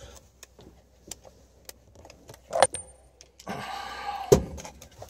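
Metallic clicks, a jangle and a couple of sharp clanks, close and fairly quiet, as a wrench works a loosened nut on the steering column of a MAN truck, with a brief rasping ratchet-like burst near the end.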